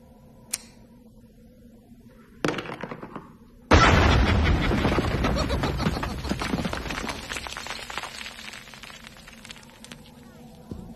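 A bomb goes off in a single sudden, heavy blast with a loud onset, and a long rumbling roar of debris slowly fades over several seconds, preceded by a few quieter sharp thumps.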